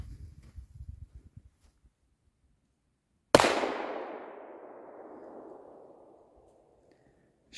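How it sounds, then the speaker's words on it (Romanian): One single-shot firecracker bursts with a sharp, loud bang, and its echo decays slowly over several seconds. A few faint rustles and knocks come before it in an otherwise quiet outdoor setting. "Deci astea sunt petardele cu un foc."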